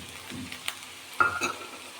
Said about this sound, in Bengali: পেঁয়াজগুলো একটু ভাজা মতো হয়ে গেছে